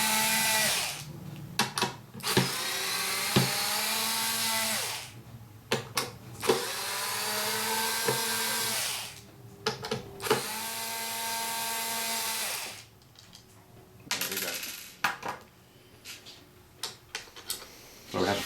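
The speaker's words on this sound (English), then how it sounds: "in this instance, you do have to remove all of the base screws." Power screwdriver removing the base screws from a Bose SoundDock, a close whirring motor in several long bursts separated by clicks and handling taps as each screw comes out.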